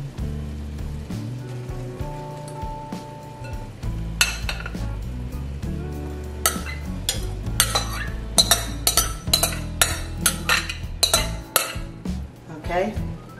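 Rice is gradually spooned back into a cooking pot over low heat, a series of metallic clinks and scrapes of utensil on pot that grow busier and more frequent, with faint sizzling beneath and low tonal background hum.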